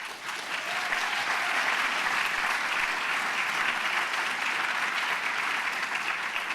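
Attendees at the CARE National Conference applaud UPS receiving the Champion of Philanthropy Award, a broad, uniform wash of many people clapping that stays constant and moderately loud throughout.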